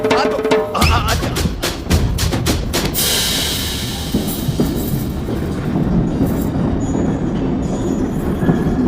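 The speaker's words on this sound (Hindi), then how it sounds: "मेरी ट्रेन छूटी जा रही है" A train pulling away from a station platform, its steady rumble and clatter loud and continuous after a burst of sharp clanks at the start, with faint voices mixed in.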